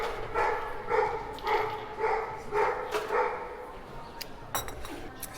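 Several dogs bark in a rural spot in the Italian countryside, a steady string of rhythmic woofs at moderate distance, followed by a few sharper yips.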